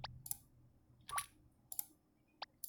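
Sparse, sharp mouse clicks in a kitchen-themed video game, four or five isolated taps spaced irregularly over a faint low background hum, with no talking.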